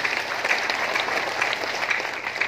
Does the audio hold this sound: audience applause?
yes